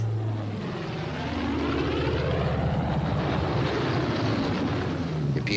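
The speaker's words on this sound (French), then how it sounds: "Approche à basse altitude et vous tirez sur le manche." A low, steady propeller drone from a World War II era aircraft on a low-altitude landing approach, loud and continuous with wind noise over the microphone and no speech.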